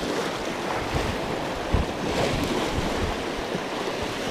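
Surf washes steadily onto a rocky shore during a sea bass fishing trip with surface lures, a broad continuous rush with wind buffeting the microphone and one brief louder thump, no talking.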